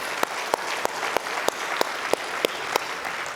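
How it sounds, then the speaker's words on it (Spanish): A church congregation applauds during a sermon: steady crowd clapping with evenly spaced, sharp individual claps standing out in a regular rhythm throughout. "Dale un fuerte aplauso a él."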